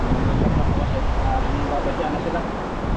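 Strong winter wind blows outdoors at an evening cookout, a constant low rumbling roar buffeting the microphone with steady broadband noise and no clear voices.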